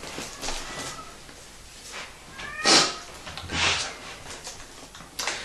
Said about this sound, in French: je pense que vous entendez les pas des chats.